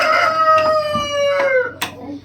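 Rooster crowing nearby on a backyard farm in Romania, one long loud cock-a-doodle-doo with harmonic calls, followed by a brief sharp cluck near the end; no talking.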